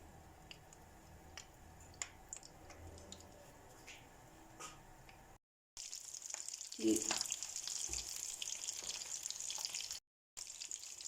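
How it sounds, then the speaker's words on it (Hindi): Potato cheese balls rolled in breadcrumbs deep-fry in hot oil with a steady bubbling sizzle that breaks off briefly, then returns louder and fuller, with a few faint clicks at first. "अब हम अपनी चीज़ बॉल्स को डीप फ्राई करेंगे।"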